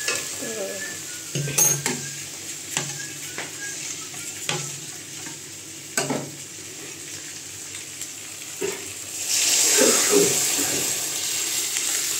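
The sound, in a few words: adding lentils to sautéed fish head in pan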